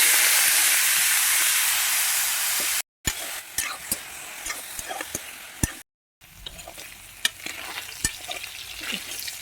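Pork hisses and sizzles loudly as it fries in a wok, with fat rendering out. Frequent sharp pops and stirring scrapes sit over a steady hiss, broken by two short silent gaps.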